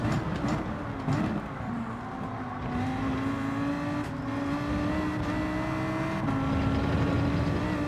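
Race car engines droning steadily in Gran Turismo, a sustained mid-distance whine with gear-change steps and occasional clicks, holding level throughout with no talk.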